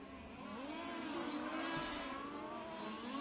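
2WD sedan radio-controlled cars racing around a track in a final, a continuous high-pitched electric whine that rises and falls as the cars accelerate through the corners, steady and fairly loud with no voices.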